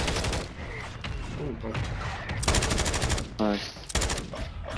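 Automatic gunfire in a shooter video game comes in several loud, close bursts of rapid shots between pauses, with someone speaking briefly over the action.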